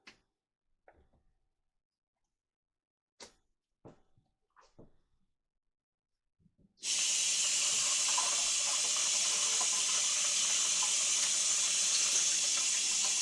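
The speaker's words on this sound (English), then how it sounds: "I was washing my hands in case you wondered" A kitchen tap runs steadily and close by as hands are washed under it, a dense continuous rush after several sharp clicks and knocks of countertop handling.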